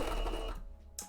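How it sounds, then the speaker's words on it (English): A sewing machine stitching a hat mock-up, a short close burst of fast mechanical whirring that stops abruptly, followed by a brief click. "if the sewing machine is a little too loud, please tell me"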